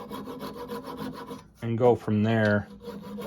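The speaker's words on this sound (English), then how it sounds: "more of a hacksaw to handle the fiberglass half of this cut" A hacksaw cuts through a fiberglass-and-wood Howard Hill longbow. Several short rasping strokes are followed by two louder, squealing pulls up close, and a voice speaks briefly.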